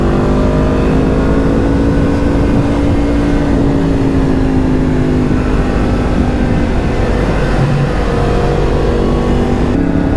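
A motorcycle engine running on 102 octane fuel gives a loud, steady drone for the whole stretch, its pitch rising gently and then settling, with no voices.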